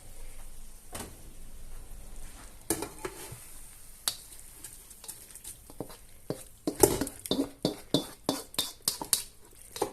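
Chopped vegetables are tipped into a cooking pot with beef cheeks, giving scattered clatters and taps of metal and food hitting the pot, then a quicker run of sharp knocks near the end, close with no talking.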